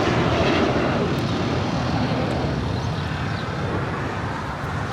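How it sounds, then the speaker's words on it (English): Steady jet engine rumble from a Bombardier Global 7500 private jet at Los Angeles International Airport, moderately loud and fading slightly toward the end, with no voices. "It's a Bombardier Global 7500"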